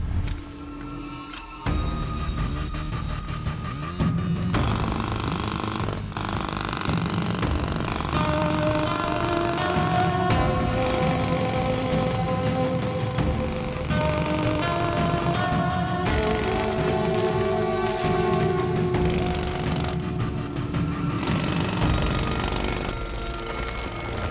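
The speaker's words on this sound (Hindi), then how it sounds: "उसको ड्रिल करके खोल दो।" A drill grinds loudly and continuously as it bores open a hidden chamber in a movie scene, the harsh mechanical roar steady throughout with ringing tones layered over it.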